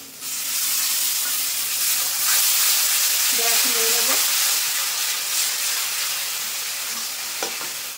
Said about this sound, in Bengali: দেখো টমেটো দিয়ে আমি আরেকটু কষিয়ে নিয়েছি